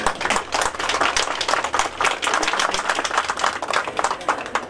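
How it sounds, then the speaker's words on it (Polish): Sustained audience applause fills a folk storytellers', poets' and singers' gathering in Zwoleń, a dense, steady crowd clapping with no voices rising above it. "Duże brawa się należą."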